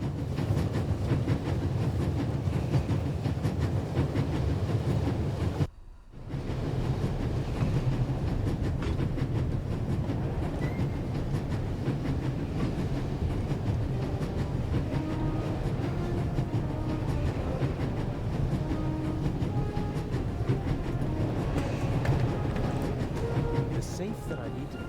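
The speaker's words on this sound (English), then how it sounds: "There's nothing quite like traveling on a train." A train in The Raven Remastered game rolls along its rails with a steady rumbling clatter that continues almost throughout. It drops out briefly once and otherwise stays loud and continuous.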